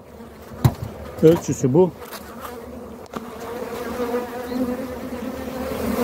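Honeybees buzz around a hive being fed during treatment for chalkbrood, a steady low hum that lasts throughout, with a brief voice speaking near the start.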